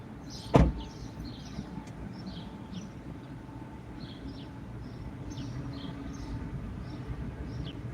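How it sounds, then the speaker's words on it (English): A white truck pulls in outdoors as a steady, moderate vehicle rumble. A sharp knock sounds near the start, and faint birdsong chirps above it throughout. "Like another vehicle that's pulling in."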